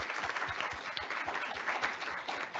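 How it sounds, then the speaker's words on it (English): A conference audience at a university presentation forum claps steadily in a brief, even burst of many hands, moderately distant and without voices. "let's give them a round of applause."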